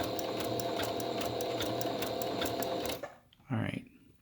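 A sewing machine runs a zigzag stitch over a metal piece while making medical masks, its rapid even needle clatter loud and close for about three seconds, then it stops and a brief mechanical clunk follows.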